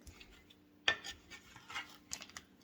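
Vegetables being tossed with seasonings in a medium rectangular baker, giving soft, close rubbing and scraping with a couple of light clinks, faint and brief.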